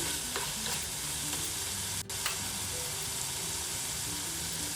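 Chicken gravy with pepper powder stirred in a pan, a continuous close sizzle and bubbling with repeated scraping strokes of a spoon and one sharp clink near the middle.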